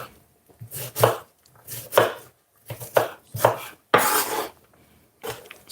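A knife chops through an onion on a cutting board during batch prep for an event, six or so crisp, loud cuts in uneven bursts with short pauses between, close and clear, no speech.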